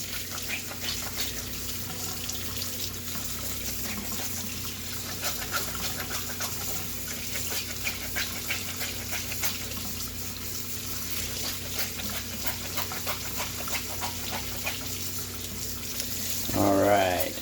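Hot tap water runs steadily over nitro engine air filters being rinsed, a continuous close splashing trickle with faint handling, ending in a brief louder splash.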